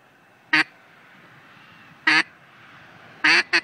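Four sharp quacks blown on a duck call, three spaced out and a final quick pair, loud and close over a quiet background hiss.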